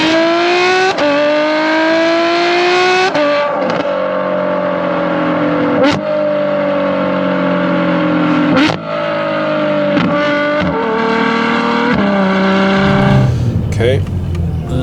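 A Novitec Ferrari F12 N-Largo R supercar, nearly 15 years old, accelerating hard, its loud close engine note climbing and then dropping at several gear changes in quick succession.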